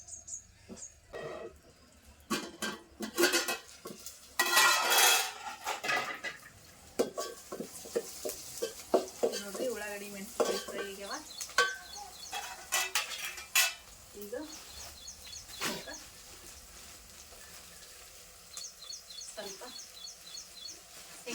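A corn flour mixture with salt is stirred in a pan, with frequent metal clinks and scraping of a utensil, a faint sizzle underneath, and a voice speaking intermittently.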